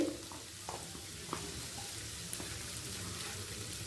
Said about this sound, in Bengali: দশ সেকেন্ড করে আদা রসুন আর কাঁচা লঙ্কাটা ভেজে নিলাম